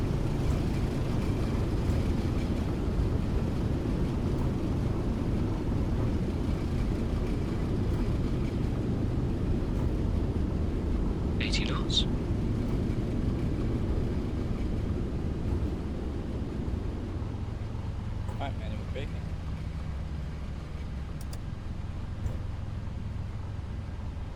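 A Boeing 737 in a flight simulator roars steadily as full thrust reversers deploy on landing, a loud broadband engine rumble that eases off toward the end, with no speech.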